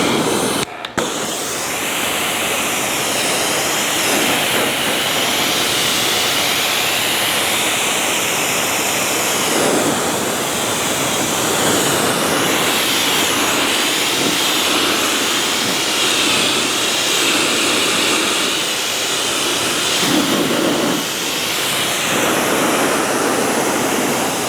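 A Quivr hose sprays water steadily to rinse Luminis Mint shampoo off a surface, a loud, continuous close hiss with one brief break near the start.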